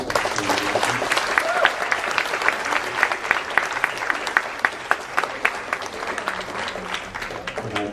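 A school humanities symposium audience claps steadily in a dense, sustained round of applause, with many overlapping hand claps at close range and no voices standing out.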